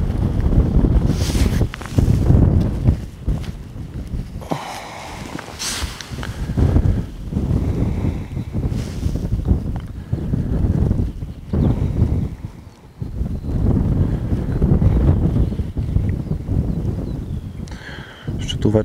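Wind blowing across open water at a feeder-fishing spot after a break in the weather: loud, rumbling gusts buffet the microphone almost continuously, easing briefly in a few lulls before rising again.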